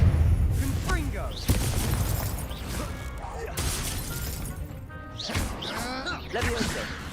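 Hogwarts Legacy spellcasting in the video game, with Confringo blasting spells producing sharp crashing, shattering impacts and booms, several bursts in a row, under and between spoken lines.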